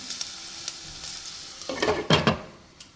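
Onions and garlic browning in oil in a lidded pan give a steady close sizzle that swells into louder crackling bursts with a few stirring scrapes toward the end.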